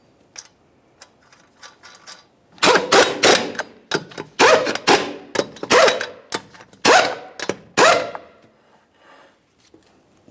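Lug wrench or ratchet spinning and tightening the 21mm lug nuts on a Nissan Altima wheel, a close series of rapid clicking, rattling bursts with short gaps, starting quietly and growing louder.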